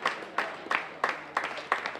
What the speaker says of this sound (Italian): Merita un applauso per questa bella gara quasi in solitario.